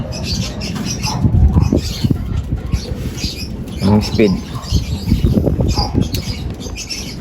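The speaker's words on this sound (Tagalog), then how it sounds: "Ito yung unang padating natin mga kalapatids, yung checkered na to" Racing pigeons, including a checkered bird, come into the loft at a derby in Balaoan, La Union, with close wing flaps and fluttering scuffles in bursts, under someone talking.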